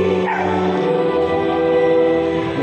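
Two dogs at home, yipping and barking in quick overlapping bursts close to the listener, with whimpering whines mixed in.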